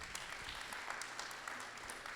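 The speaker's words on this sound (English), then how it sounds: "You all deserve a huge round of applause." A room full of people at a city's state-of-the-city address claps steadily, a dense, even patter of many hands with no voices over it.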